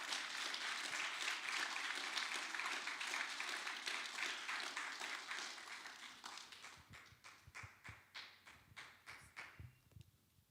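Church congregation claps for an arriving speaker, a full burst of applause that thins out into scattered individual claps, some loud and close, as it fades.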